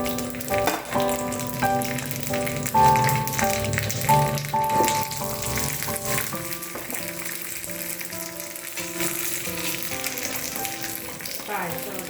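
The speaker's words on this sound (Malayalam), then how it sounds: "ആ നേരം കൊണ്ട് നമുക്ക് മുന്തിരി അണ്ടിപ്പരിപ്പൊക്കെ വറുത്തെടുക്കാം" Raisins and cashews fry in a teaspoon of ghee in a hot pan, giving a soft, steady sizzle and crackle under background music.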